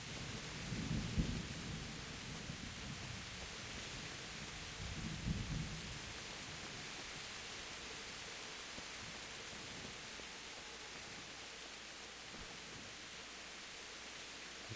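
Thunder rolls through a stormy video game scene, with two deep, booming rumbles near the start over a steady, loud hiss of rain that continues to the end.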